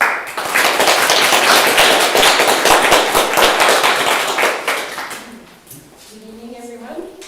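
An evening speaker-series audience gives a crowd's worth of applause for a speaker, loud and dense for about five seconds before fading, then a voice starts talking.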